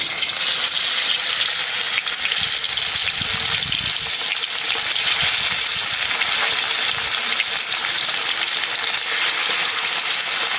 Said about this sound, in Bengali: কড়াই গরম হয়েছে, মাছ ভাজার জন্য তেল দিয়ে দিলাম।